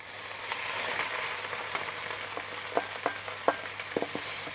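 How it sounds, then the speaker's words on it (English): Minced meat sears in a Dutch oven with parsley for an old-school lasagne: a steady close sizzle with scattered sharp crackles and pops, growing busier toward the end, with no voices. "And then we're going to already throw in our minced meat."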